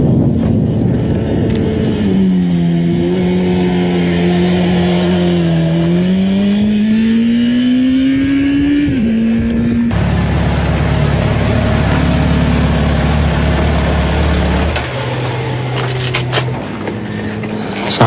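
A motorcycle being ridden with its engine revving, a loud close drone that rises in pitch as it accelerates, then drops and shifts to a lower, rougher idle-like rumble, with a brief lull near the end.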